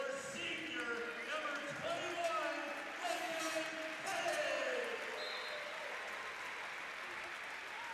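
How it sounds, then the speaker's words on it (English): Spectators in a gym clap for the seniors at a varsity girls high school basketball game, a sustained crowd applause with an announcer's amplified voice talking over it throughout. "we're going to have the clap off for the seniors"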